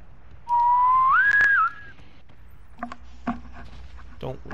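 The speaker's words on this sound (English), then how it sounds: "Don't whistle." Person whistling a single rising, wavering note lasting about a second during a PUBG online game session, loud and close, followed by faint clicks and game noises.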